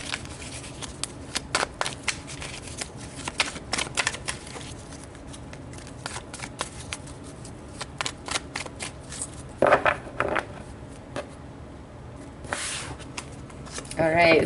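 Tarot cards are shuffled and drawn, with a run of crisp, rapid riffling and slapping bursts close to the microphone, uneven in rhythm and broken by short pauses, with a voice speaking at times over them.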